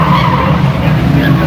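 A banger racing car slides sideways down the track in a crash, tires skidding with a loud, continuous rasping squeal over the roar of engines, close and sustained throughout.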